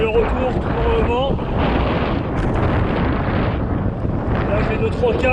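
Strong wind buffets the microphone of a rider on a gravel allroad bike near Saint-Tropez, a loud, continuous roaring rumble with a voice faintly heard through it.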